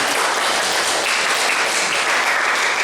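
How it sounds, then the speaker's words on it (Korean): Congregation at a Sunday morning church service in Prague applauding, loud continuous clapping that fills the room without a break. "진짜 진심으로 박수 쳐주고 싶습니다"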